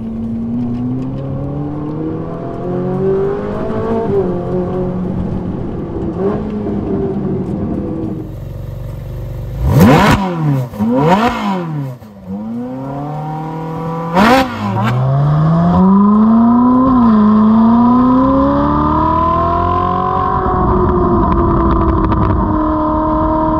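Ferrari 458 Italia V8 on a race track, revving hard through rising and falling gear sweeps, with sharp shifts and brief lifts mid-run before a long climbing pull, loud and close from inside the car.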